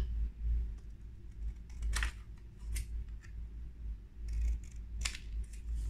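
Scissors snip through paper while cutting out the neck piece for a pop-up dragon card, a series of close, crisp irregular cuts over a low background hum.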